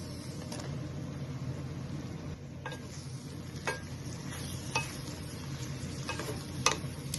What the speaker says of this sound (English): Saute all this so the moisture from the mushroom is gone.